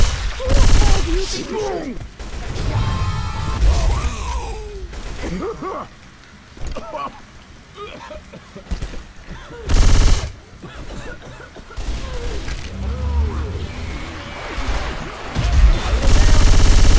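Automatic gunfire bursts in the flooded, rain-soaked setting of the video game Hard Rain, loud rattling volleys recurring across the stretch with brief pauses, voices talking between and over them.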